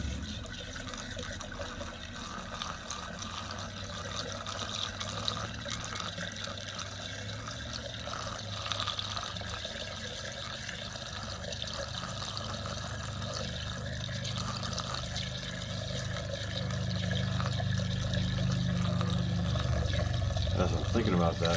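Homemade Cabernet wine is poured while bottling, giving a steady liquid stream and gurgle that grows fuller toward the end, with people talking nearby.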